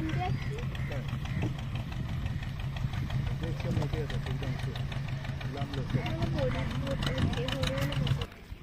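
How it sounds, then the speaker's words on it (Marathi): A fishing boat's engine idles near a shore fish auction at Ade, Dapoli, a steady throbbing knock that runs unbroken and close until it drops off just before the end, with people talking over it. "हे आता फिशिंग करून होडी येते आता."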